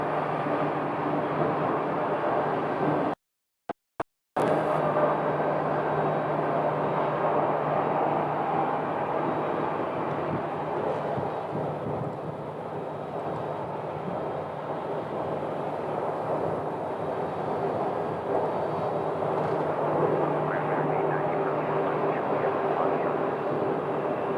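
Jet engines roar steadily at Phoenix Sky Harbor airport as airplanes take off, a loud sustained rumble that eases slightly midway then builds again, with a brief dropout near the start.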